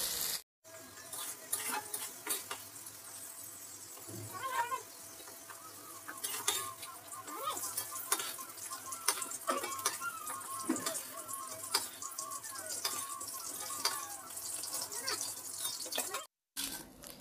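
Clams frying in a pan with salt and turmeric give a low sizzle, with scattered stirring scrapes and clinks nearby. A voice speaks at points over the quiet cooking.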